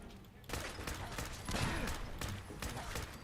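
A player's own grenade goes off in Fallout 4 during settlement building, a burst of loud crackling blasts after a quiet start, with rapid popping debris close by.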